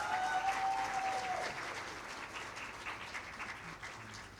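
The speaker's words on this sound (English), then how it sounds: "So a big round of applause again for the faculty." A convocation audience claps for the college faculty, a full, sustained round of applause that starts loud and thins slightly as it continues, heard without speech.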